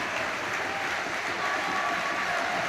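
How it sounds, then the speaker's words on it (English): Crowd at a Hibernian versus Motherwell football match applauding during a substitution, a dense continuous roar of clapping filling the stadium at steady loudness. "Let the two of them get a round of applause to themselves."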